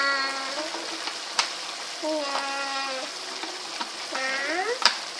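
Chicken with cauliflower and carrots stir-fried in a pan on medium-high heat, a steady sizzle with a spatula scraping and a couple of sharp clinks, while a person talks over it.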